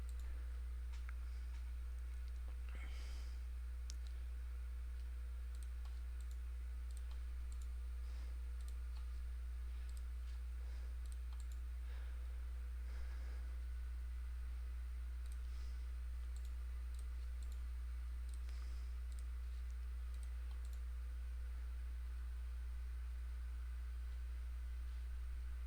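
A computer mouse clicking during copying and pasting: sparse, faint, dry clicks scattered over a steady electrical hum and hiss, with no voices.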